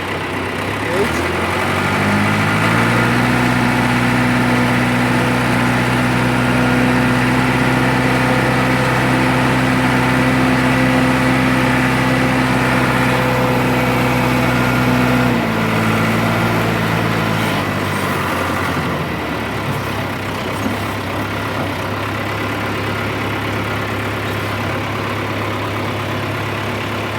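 A John Deere utility loader tractor's engine runs steadily at a loud, close idle, its low hum rising to a higher, even drone before easing back down, with a person talking over it.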